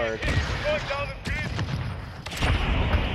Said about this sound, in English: they're shooting at it.